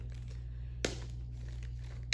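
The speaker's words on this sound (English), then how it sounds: "So, to start, get a plastic bag." A big plastic bag crinkles in two short, sharp bursts over a steady low hum in a quiet room.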